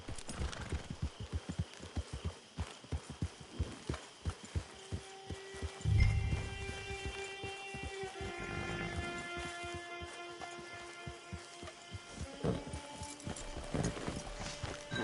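Horse hooves clip-clop in the video game Red Dead, a steady sequence of hoofbeats close by, with a horse snorting or whinnying briefly midway over a faint background.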